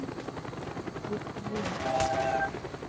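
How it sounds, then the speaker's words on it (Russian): Helicopter rotor noise in the Call of Duty: Black Ops campaign, a steady mechanical drone mixed with scattered gunfire bursts, louder in the second half, with a voice talking intermittently over it. "Так, надо сбить вертушки"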